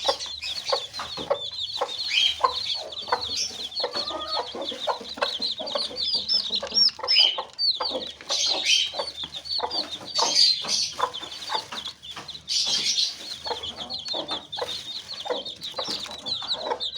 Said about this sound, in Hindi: देखें फ्रेंड्स, कितने शौक से ही दाना खाने आ रहे हैं 14 नंबर दाना ये मेरे चूज़े